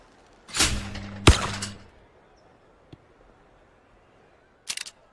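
A shotgun fires at a clay target during Olympic shooting, a sharp loud blast with a second crack just after, followed by faint clicks and a brief burst of distant noise.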